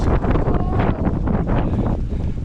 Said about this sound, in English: That wind is some kind of fierce right now.